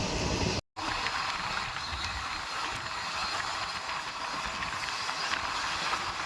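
A Vibhuti Express passenger train runs steadily on its rails with a continuous rumble and rattle, heard from inside the moving train, broken only by a brief cut near the start.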